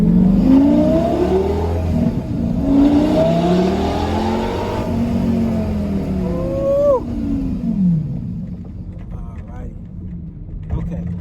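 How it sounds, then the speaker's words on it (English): A 2008 Lamborghini Gallardo Superleggera engine revs repeatedly nearby, rising and falling sweeps of loud exhaust roar, with people talking over it. "Rev it up, Paul. Rev it up."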